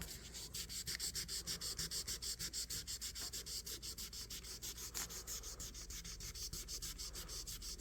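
Fine sandpaper rubs back and forth across an old Boker USA electrician's knife in quick, even hand strokes, close and rhythmic, with no talking.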